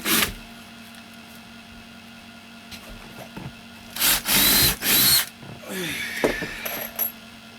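Power drill driving screws into an OSB wall of a tiny house bedroom, heard as two loud bursts in the middle after a quiet stretch, with a sharp knock at the start and lighter handling noise afterward.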